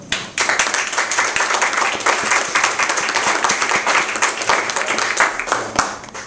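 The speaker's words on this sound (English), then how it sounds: "thank you, and a little round of applause." Audience at an environmental activism panel breaks into sustained applause for the panelists, a dense wash of many hands clapping close by that starts sharply and holds steady throughout.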